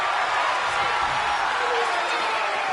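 A crowd at a wrestling match cheering, a dense continuous roar of many voices filling the whole moment with no clear pauses.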